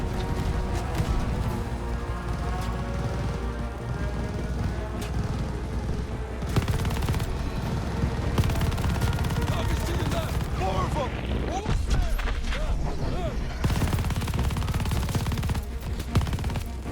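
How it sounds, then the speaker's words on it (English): A light machine gun fires in Call of Duty: Vanguard, with dense, continuous bursts of rapid shots layered over explosions and game music. A player talks over the gunfire for much of the clip. "Use that LMG. God, keep shooting"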